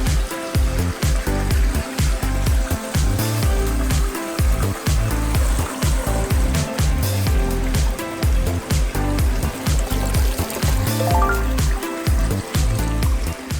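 A backyard waterfall water feature splitting into two falls, pouring in a dense, continuous rushing splash, loud and close with no pauses.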